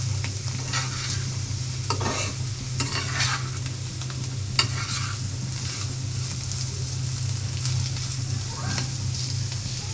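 Bitter gourd slices frying slowly in a pan until browned, giving a steady close sizzle with occasional scraping stir strokes throughout, with no talk.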